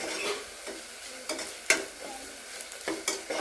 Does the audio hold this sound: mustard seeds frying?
yes